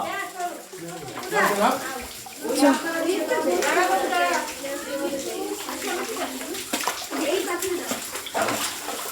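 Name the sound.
waterfall water flowing in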